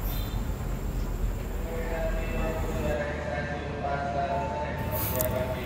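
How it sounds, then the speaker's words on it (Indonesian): The Progo economy train departs Lempuyangan station in Yogyakarta with a steady low rumble and faint tonal whines rising from the engine and wheels, while ambient station noise fills the background. "kereta api Progo diberangkatkan dari stasiun besar Lempuyangan"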